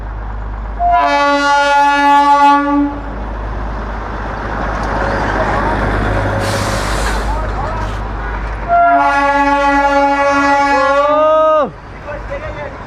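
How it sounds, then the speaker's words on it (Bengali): A diesel Darjeeling toy train passes close by, sounding two long, loud horn blasts separated by a rumbling roar of engine and wheels, with voices audible nearby. "আর একটা ট্রেন, এটা মনে হচ্ছে ডিজেল চালিত।"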